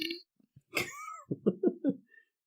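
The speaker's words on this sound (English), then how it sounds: "There's a loud and then the quietest burp I've ever heard." A brief sung note from a bathroom scene on TV gives way to a loud, drawn-out belch mid-lyric, followed by a few short, quieter gurgling burps in quick succession.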